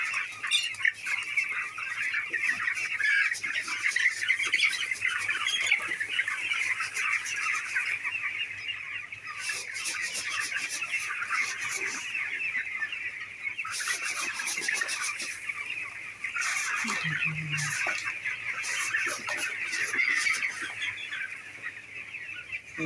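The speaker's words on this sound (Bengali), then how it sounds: "মুরগিগুলো একটু নাড়াই দিলাম বলে অনেক খেলাধুলা করছে।" A poultry shed full of chickens gives off a steady, crowded chorus of clucking and chattering. The birds are lively after being stirred up, and the sound runs continuously and fairly loud with no talking.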